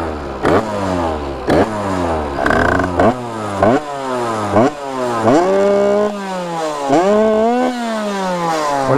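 A Peugeot 103-style moped with a Stage 6 cast-iron 77 cc street race kit and a Blaze exhaust cartridge revs repeatedly in sharp rising whines, loud and close, with no talk.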